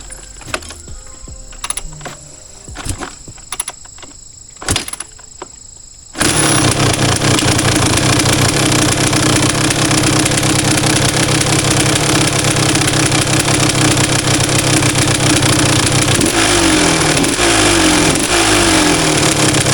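Faint clicks and rattles, then a Kawasaki KX250 dirt bike engine fires up and runs loud and steady, with a few sharp revs near the end.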